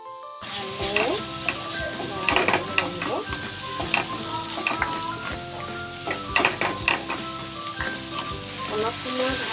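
Tomatoes and green chillies fry with sugar and turmeric in a pan for poha, giving a continuous, close sizzle broken by clicks and stirring scrapes, with a person talking over it.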